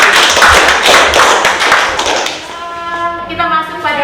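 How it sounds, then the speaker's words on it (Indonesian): Students in a classroom applaud four classmates after a chemistry answer, a dense burst of claps that fades out as a tonal voice-like sound rises near the end. "Demikian tepuk tangan buat keempat teman."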